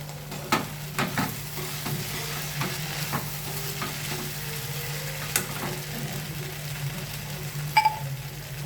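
Sabudana khichri sizzles and fries steadily in a pan after sugar and salt go in, with a spoon stirring and scraping in scattered taps, all close and fairly loud with no talking.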